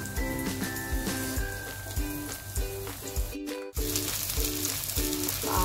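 Matar potato cheese cutlets fry steadily on a medium gas flame, giving a continuous close sizzle and crackle with faint tonal hum from the cooking setup.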